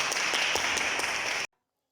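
Members and office-bearers of a political organisation clap together at a party meeting, a dense, steady patter of hands lasting about a second and a half before stopping abruptly into silence.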